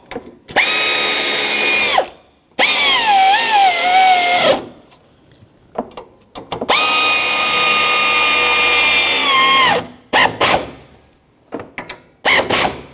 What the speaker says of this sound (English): That's a 10mm socket. Line it up, both sides, and then tighten it down.